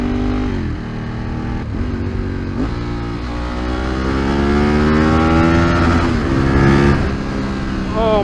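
Ducati 916 motorcycle engine revving up and down, loud and close, a throaty twin rising in pitch in several swells, and a voice speaks briefly over it.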